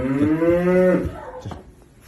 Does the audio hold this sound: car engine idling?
no